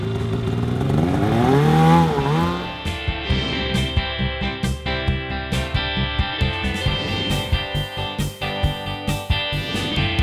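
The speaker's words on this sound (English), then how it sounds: "This has been so much fun riding the snowmobile!" A snowmobile engine revving while being ridden, a loud close mechanical roar that swells early, then settles into a choppy, pulsing drone with rhythmic dips and clattering bursts, no voices heard.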